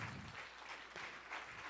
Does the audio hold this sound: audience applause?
yes